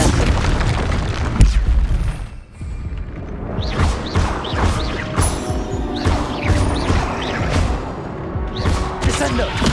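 Bombarda and Confringo spells blast repeatedly in Hogwarts Legacy on PS5, giving a dense run of loud booms and crashing impacts over a rumbling game soundscape, with a brief lull early on.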